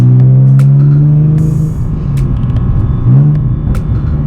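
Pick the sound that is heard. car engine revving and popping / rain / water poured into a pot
car engine revving and popping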